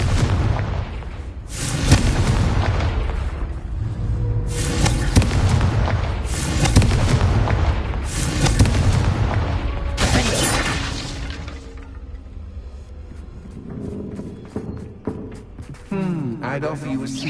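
Confringo blasting spells exploding in the video game Hogwarts Legacy, a run of loud, sharp booms and crackling bursts at steady intervals, with voices talking between and over the blasts.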